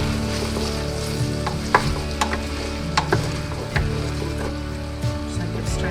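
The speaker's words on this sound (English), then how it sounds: "Give it a stir here." A spoon scrapes and clinks in a pot of simmering rockfish soup with celery, soft irregular knocks over a steady low sizzle and bubbling, close by.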